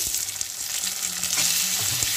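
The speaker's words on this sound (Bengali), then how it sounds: "টমেটোটাকে একটু ভাজা ভাজা করে নেব ভালো করে" Chopped tomatoes frying with browned onions in a pan, a constant close sizzle with occasional stirring scrapes and low clinks, and no one talking.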